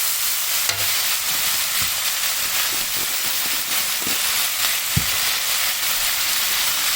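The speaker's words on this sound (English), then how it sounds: "Give it a nice stir." Korean spicy pork belly stir-fry sizzles steadily in a hot pan while a utensil stirs and scrapes through it, with a few sharp clinks against the pan over the constant frying hiss.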